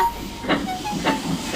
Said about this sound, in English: Rosie whistled goodbye to Thomas and she set off with her train